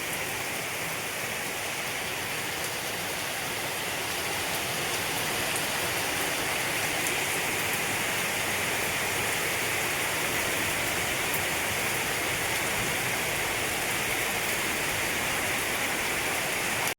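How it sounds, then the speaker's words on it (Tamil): Steady, heavy rain pours down without a break, a dense hiss of drops hitting surfaces close by. "மழையை ரசிக்க ஒரு அழகு"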